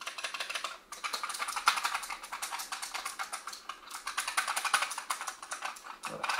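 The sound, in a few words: typing on Razer Huntsman Mini keyboard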